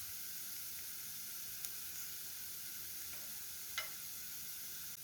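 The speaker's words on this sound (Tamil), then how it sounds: "இன்னும் கூட ஒரு 2 நிமிஷம் இது நல்லா ஃப்ரை ஆகணும். நல்ல ஒரு டார்க் ப்ரௌன் ஷேடுக்கு வரணும் இந்த ஆனியன்." Onions frying in a pan for masala paneer give a steady, even sizzle, close and moderately loud, with a couple of brief clicks and no talking.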